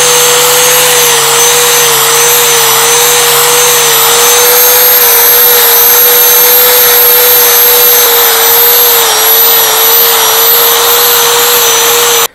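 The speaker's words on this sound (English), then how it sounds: "Now I'm just gonna smooth it out a little bit. I'm gonna use a grinder." A grinder smooths the foam of a BMW R1200RT motorcycle seat with a light touch, giving a loud, steady high-pitched whine with a sharp tone that runs unbroken and up close throughout, with no talking.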